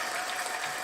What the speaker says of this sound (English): I get a round of applause for Cuckoo Birds